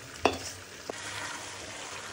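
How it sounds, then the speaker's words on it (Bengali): About half a spoonful of whole cumin seeds sizzles in a pan for a beef dish. The frying hiss is steady, and two sharp clinks of stirring come near the start. "এখন হচ্ছে এগুলো একটু ভেজে নিয়ে হচ্ছে মাংসের ভিতরে দিয়ে দিব।"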